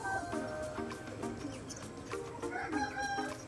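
Rubella x European milky gamefowl roosters crowing repeatedly at a distance, the calls overlapping with fainter clucking from other fowl in the background.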